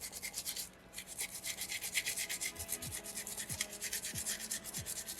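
Folded sandpaper rubbed briskly over a small soapstone bear carving, a steady rapid back-and-forth scratching that is close, continuous and alone.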